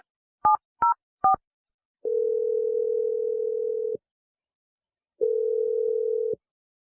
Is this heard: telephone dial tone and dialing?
yes